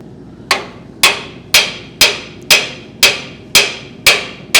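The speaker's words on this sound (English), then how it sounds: "Hit your bolt in farther." Metal-on-metal hammer blows drive a bolt in during a tubular control arm and air bag suspension install on a 1946 Pontiac, eight loud ringing strikes at an even one-per-second pace, each decaying quickly.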